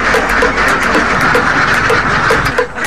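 A flock of Alabio ducks quacking continuously and loudly around their pen, many overlapping calls close by in a steady, busy chorus.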